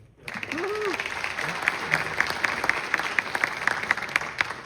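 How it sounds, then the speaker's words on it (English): An audience gathered at a high school for a road update meeting claps steadily after a brief voice at the start, with a dense, even patter of many hands and a few sharper claps standing out. "Let's have a round of applause for him."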